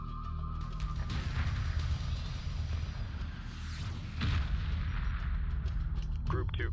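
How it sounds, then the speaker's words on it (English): Mothership anti-aircraft guns firing in the space strategy game Homeworld Remastered, a dense, continuous barrage of booming shots over a low rumble, loud and sustained, with a rising whoosh midway. "The Mothership's defensive AA seems to work better."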